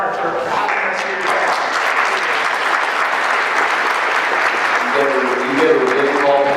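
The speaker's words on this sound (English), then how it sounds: "So I give that applause for Jeff Donner for having us here" Audience applause at a celebration honoring Martin Luther King Jr., a loud, sustained wash of clapping from a large crowd, with a voice speaking over it toward the end.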